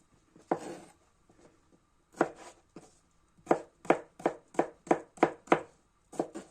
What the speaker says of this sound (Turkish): Bunları da böyle küpler halinde küçük küçük doğruyorum.